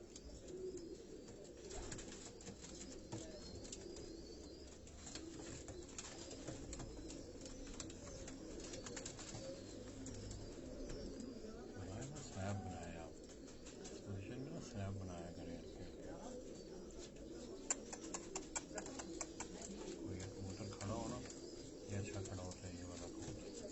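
Racing pigeons coo softly and repeatedly beneath steady nearby conversation, with faint chirps and a low background hum throughout.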